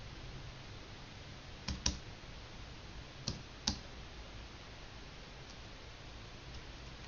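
A zip code is typed on a computer keyboard: a few faint, scattered key clicks over a quiet background hiss.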